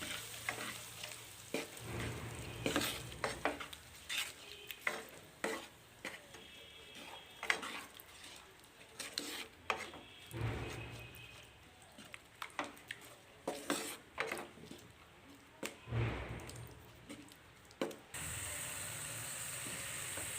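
Masala with dry chili powder sizzles softly in a pan for prawn malai curry while a spoon scrapes and stirs in repeated irregular strokes, quiet and close, with no talking.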